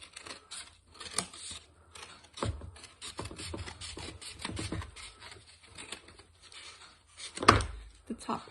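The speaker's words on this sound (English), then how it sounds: "Just going to take your scissors and cut down the center." Scissors snip and crunch through a cardboard egg carton during garden seed-starting, in short irregular cuts with rustling handling noise. A voice talks quietly between the cuts.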